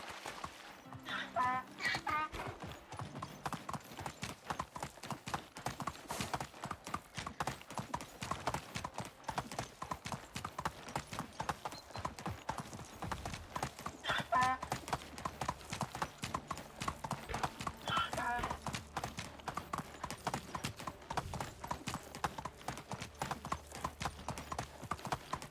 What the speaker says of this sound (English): I just love that the donkey raises his head to go through the water